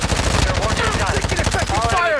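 Rapid automatic gunfire from a Call of Duty: Modern Warfare II match, a loud, dense burst of shots rattling continuously for about two seconds before stopping abruptly, with faint game voice in the mix.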